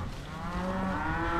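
A cow on a ranch lets out a drawn-out, steady moo at moderate distance, with rough outdoor background noise and no talking.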